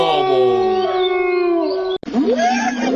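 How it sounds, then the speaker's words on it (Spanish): A wolf howls in long sustained tones that slide up and down, loud and clear, followed by a brief cut and a second rising howl. "lobo."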